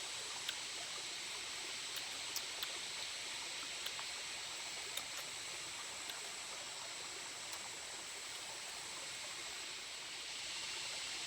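Steady broadband rush of a creek flowing close by, continuous and even throughout with no voices, water running past near a tree at the creek's edge.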